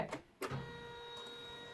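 Embroidery machine stitching the first colour run of an in-the-hoop zipper bag, with a couple of sharp mechanical clicks and then a steady, quiet whirring hum.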